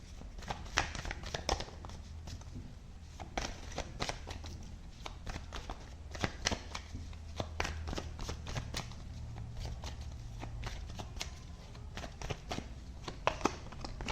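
Tarot cards are shuffled and drawn in a steady run of crisp riffles and slaps, close and alone with no talking.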